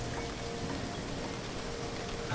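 Steady rain in the horror game Remothered: Tormented Fathers, a dense, even hiss of falling water that holds constant throughout without any voices.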